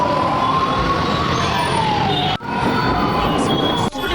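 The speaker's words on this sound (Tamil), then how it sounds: "இந்த சைடுக்கு இது ஆம்புலன்ஸ், அந்த சைடு போகுது." An ambulance siren wails steadily and loud over dense traffic rumble, its pitch slowly sliding down as it passes by.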